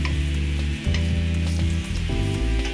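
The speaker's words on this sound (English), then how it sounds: "I'll saute those for a few minutes until the onions turn translucent" Onions and garlic sautéing for a Korean-style tteokbokki made with Italian ingredients, a loud steady sizzle under a strong sustained low hum, with no voices.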